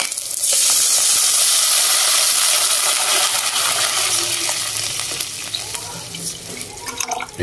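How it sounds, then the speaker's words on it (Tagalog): A snack mixture bubbles in a pot on the stove, a loud continuous hissing, sizzling boil heard close up that eases slightly toward the end. "Pakuloan lang natin yan, mga kadayo. Ayan, kulong-kulo na."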